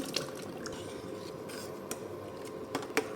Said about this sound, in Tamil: எல்லாத்தையும் நல்லா கலந்து விட்டுட்டு